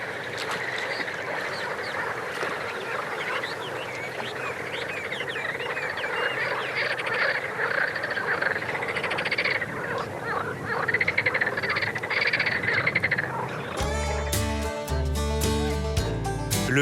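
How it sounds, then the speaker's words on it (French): A dense chorus of countless frogs croaks and calls in the Danube Delta wetland, a steady layered din of overlapping voices heard at close range, before music abruptly takes over in the final seconds. "Et là, vous entendez les grenouilles. Des millions de grenouilles."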